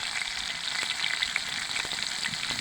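Potatoes with turmeric fry in a pan, a steady, close sizzle with scattered crackling pops throughout and no voices.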